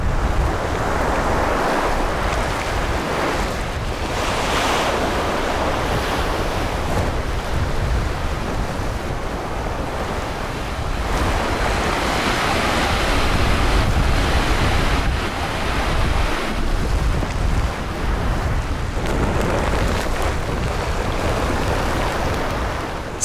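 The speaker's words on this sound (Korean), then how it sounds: "산더미 같은 파도가 온 바다를 뒤집어 놓고 작은 섬을 흔들어댑니다." Typhoon-driven waves and strong wind on the sea off Jeju, a continuous loud roar of heavy surf and gusting air with swelling crashes of breaking water throughout.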